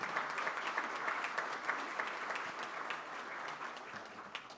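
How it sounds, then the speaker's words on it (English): A crowd at a Rotary Club of Tulsa meeting applauds steadily, a dense patter of clapping that holds for several seconds and tapers slightly toward the end. "let's give all these folks a round of applause"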